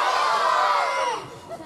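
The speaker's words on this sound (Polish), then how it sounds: "na 3-4, najgłośniej, jak tylko potraficie, krzyknijcie swoje imię" An audience at an improv comedy show in Lubawa shouts their own names all at once, a loud dense burst of overlapping voices that swells and then fades within about two seconds.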